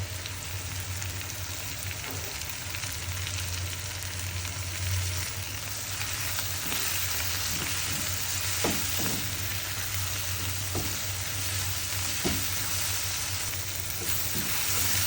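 Vegetables fry in a pan with a continuous, even sizzle and crackle, steady and close, with a few soft clinks from stirring and no talking.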